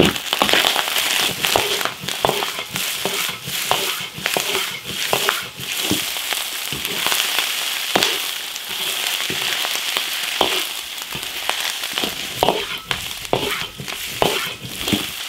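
Eel pieces stir-fried hard in an iron wok with dried chillies and salt, Hubei coiled-eel style: a loud, steady sizzle full of popping crackles and scraping stir strokes runs throughout.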